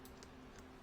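Quick, light clicks of typing on a computer keyboard, faint and close in a quiet room, a few keystrokes in under a second.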